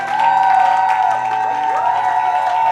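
Church congregation applauding and cheering in praise of Jesus, a loud, sustained wash of clapping and voices over a steady sustained organ or keyboard tone throughout.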